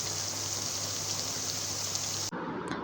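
Potato pakoras fry in hot oil with a dense, steady sizzling hiss that stops abruptly near the end, leaving fainter crackles.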